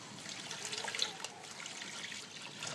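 About 1.5 litres of water pours into a pan of lentils for haleem, making a soft, continuous splashing trickle with a brief louder gush. The sound is close and quiet, with no talking.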